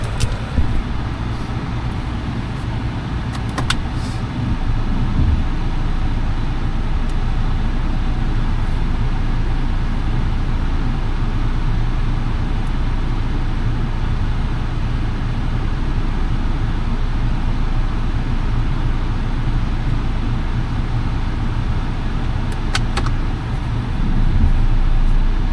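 A car backing up and then driving on, a steady low engine and road rumble running unbroken and fairly loud throughout, with no voices over it.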